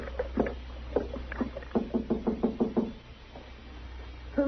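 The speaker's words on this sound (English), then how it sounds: "All right, go ahead and knock." A series of rapid, evenly spaced knocks on an indoor hall door, close and fairly loud, with a quiet pause after.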